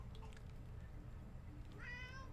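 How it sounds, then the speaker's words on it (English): A pet cat named Jasper meows faintly in a quiet room, one soft meow early and a clearer rising meow near the end, over a low background hum. "Jasper's meowing"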